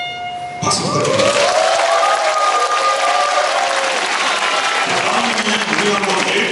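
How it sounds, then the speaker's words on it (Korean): A concert audience bursts into loud, sustained applause for student saxophone players after a moment of quiet, with a few lingering tones beneath the clapping. "박수 부탁드립니다"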